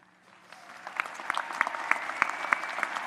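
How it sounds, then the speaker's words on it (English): Applause builds at an undergraduate commencement ceremony for the class of 2022, scattered claps swelling into a fuller crowd ovation with sharp distinct hand claps standing out near the front. "deserve an applause."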